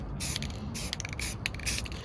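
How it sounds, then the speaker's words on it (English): Short bursts of gold metallic aerosol spray paint hissing in a quick irregular series, with faint rattling between them, close by. "now it's time to do some spray painting"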